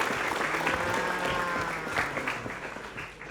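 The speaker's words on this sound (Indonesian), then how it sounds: "Tepuk tangan." Audience applause from a gathering of junior high school teachers in Palembang, a steady dense clapping that holds throughout at moderate level with a faint murmur of voices underneath.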